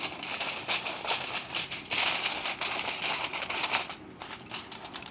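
A run of crisp, rapid snipping and rustling sounds, close by, with irregular bursts like paper being cut with scissors.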